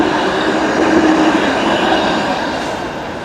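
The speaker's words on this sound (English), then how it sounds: "I think the next streetcar is coming." A Toronto streetcar runs along a city street on a Friday night, producing a loud, continuous rumble of wheels on rails that eases slightly toward the end, with no talking.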